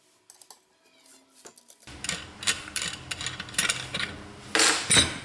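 Metallic clicks and ratcheting turns come close and dry as a Torx T30 key backs out the front and rear stock takedown screws on a CZ 455 rifle, in quick irregular bursts growing louder toward the end.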